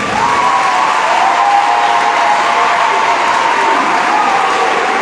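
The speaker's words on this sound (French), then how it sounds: "On applaudit pour nos prêtres" Congregation at a Catholic Mass applauding their priests, a dense, steady wash of many hands clapping throughout in a large church, with a faint tonal hum or voice lingering underneath.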